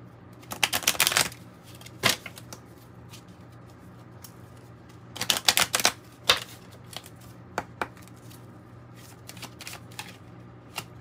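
A Kipper oracle card deck being shuffled by hand in quiet bursts of riffling and flicking, two longer runs separated by single card snaps, close and clear with no talking.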